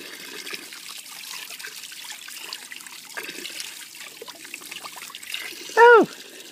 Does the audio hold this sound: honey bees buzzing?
no